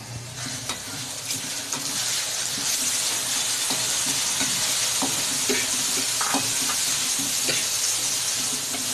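Chicken frying in a pan gives a loud, steady sizzle and hiss throughout, broken by repeated scraping stirs of a spoon.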